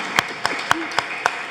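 A handful of sharp, scattered claps ring out at a steady pace, a small audience applauding briefly at a book presentation.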